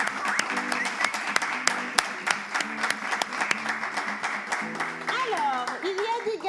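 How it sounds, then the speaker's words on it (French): Audience applause from a French slam poetry competition show, steady dense clapping filling the room, with a voice speaking over it toward the end. "Je vais vous demander à vous-même de vous applaudir."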